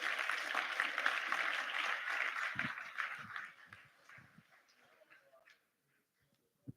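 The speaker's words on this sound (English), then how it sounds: "Clap your hands for Howard" Audience applause at a memorial celebration of life, a crowd clapping steadily for several seconds before fading out into near silence.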